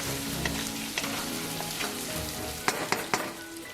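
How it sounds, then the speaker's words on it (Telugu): Chili powder and spices frying in oil in a pan while cooking chicken biryani, a close, steady crackling sizzle with soft stirring scrapes and a few sharper clicks of a spoon against the pan, no voices. "ఆయిల్ కాస్త వేసుకొని మళ్ళీ ఫ్రై చేస్తూనే ఉండాలి"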